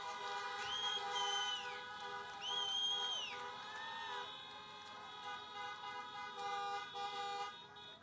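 Car horns honk repeatedly at an outdoor political campaign rally in Florida, several overlapping toots and long blasts of different pitches sounding together over a steady background crowd noise.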